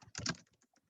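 Quick, quiet keystrokes on a computer keyboard: a short cluster of clicks for under a second, close and soft, with nobody speaking.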